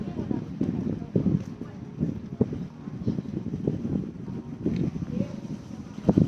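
Strong wind buffets the microphone outdoors in Oslo on a cold day, with rumbling low gusts throughout while a person talks over it.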